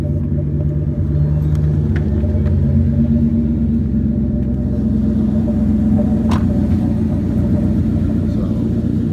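A turbocharged Ford Mustang V8 idles steadily with a low, muffled, tame rumble, close and even throughout with no revving.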